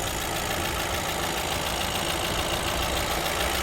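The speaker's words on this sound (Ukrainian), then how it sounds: "Чиста м'яка робота двигуна." A 2019 Volkswagen Crafter van engine idles smoothly and steadily, a continuous close hum with no voices or changes in rhythm.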